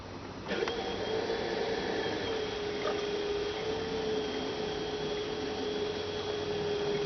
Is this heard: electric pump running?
yes